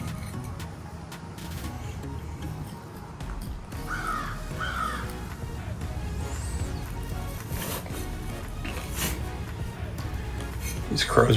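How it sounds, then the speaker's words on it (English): Crows caw intermittently at a distance in a garden, short harsh calls over a steady low background rumble with some faint voice. "These crows around here making themselves known."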